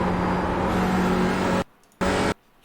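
A race car engine in a TCR racing game at Sonoma screams at full throttle with a loud steady whine, cuts out abruptly, surges back briefly, then drops off again.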